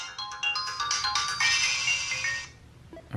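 Bright electronic video game music and effects from a Miyoo Mini handheld's small built-in speaker, fairly loud and close, playing for a few seconds before cutting off.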